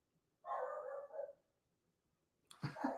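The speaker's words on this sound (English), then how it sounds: "There goes the dog." A dog gives a single short, muffled bark in the background of a live sports chat stream, followed by silence and then a brief burst of indistinct noise.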